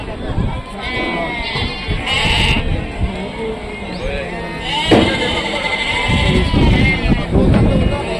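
Sheep bleating repeatedly amid the bustle of a Rajarampalli goat and sheep market, including a mother ewe with her lamb, with people talking nearby throughout.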